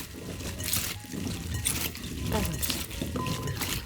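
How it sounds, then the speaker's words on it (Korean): Broth being poured over cucumbers in a bowl, a soft continuous liquid trickle and splash running steadily at close range beneath light kitchen noise. "이렇게 국물을 부어주면 돼요"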